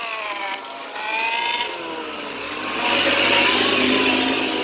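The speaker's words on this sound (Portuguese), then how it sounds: "Olha essa moto empinando." A motorcycle engine revs hard during a wheelie and climbs in pitch, its whine rising and holding loud and close with no voices.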